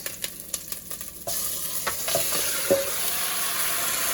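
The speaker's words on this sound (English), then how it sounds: "So since that's getting color, I'm going to add the meat." Oxtail meat drops into a hot pot for searing: a few scraping stirs at first, then a sudden loud, steady sizzle that stays up, with occasional utensil scrapes and no voices.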